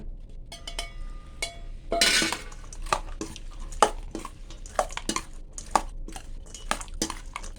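A utensil clinks and scrapes against a bowl while fried Chinese sausage, blanched pork roll and fried meatballs are stirred into a homemade Thai yum dressing, giving a steady run of close, bright taps.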